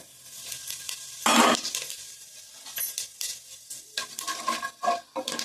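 Whole spices for veg biryani, including cloves, pepper, star anise, marathi moggu, fennel and bay leaf, drop into hot oil, with a loud burst of sizzle followed by crackles, clinks and stirring scrapes nearby.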